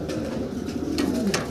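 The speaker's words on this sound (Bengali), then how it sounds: "অসাধারণ একটা কবুতর" A pigeon coos close by, soft low throaty calls repeating over a steady murmur of background noise with no talking.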